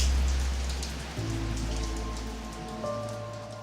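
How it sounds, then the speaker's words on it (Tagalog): Heavy rain pouring steadily as a dense, loud, continuous hiss with no talk, with a low hum underneath. "pero ang lakas ng ulan"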